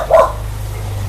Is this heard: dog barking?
yes